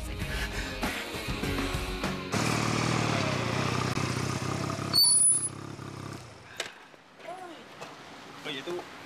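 A motorcycle engine runs at a steady low drone for several seconds, then fades as the bike eases off, with faint voices and a brief squeak nearby.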